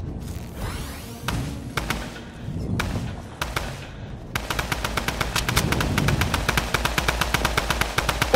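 Gunshots in Fortnite ring out as several separate loud cracks, then turn into a steady, rapid run of automatic fire that keeps going to the end.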